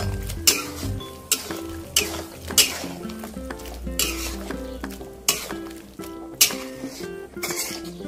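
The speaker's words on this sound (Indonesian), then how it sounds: "Aduk kembali." Spoon stirring a palm oil mushroom stew simmering in a pan, with repeated scraping strokes and light clinks against the pan over a soft bubbling sizzle, no voices.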